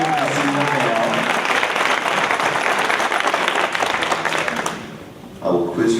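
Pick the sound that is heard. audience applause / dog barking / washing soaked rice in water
audience applause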